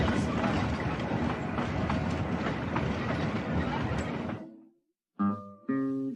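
A narrow gauge train rolls along its rails in the Colorado mountains, a dense steady rumble and clatter that cuts off abruptly, followed by a brief tonal musical tag.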